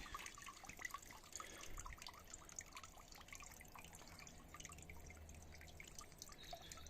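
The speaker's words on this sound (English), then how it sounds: "The sound of water in the garden is something to behold." Gentle water trickling and dripping steadily in a garden pond outdoors, a soft continuous babble with small splashes, fairly quiet and without speech.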